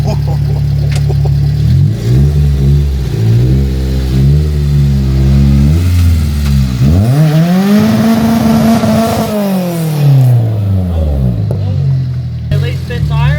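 A Honda B18-engined EF wagon revs loudly and close by as it pulls in, the engine note climbing and falling in several sweeps, with voices talking over it.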